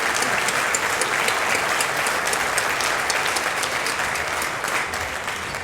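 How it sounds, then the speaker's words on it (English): A large crowd claps steadily in sustained, dense applause that tapers slightly near the end, at an outdoor celebration at CityCenterDC in Washington, D.C. "join that gentleman over there in a robust round of applause"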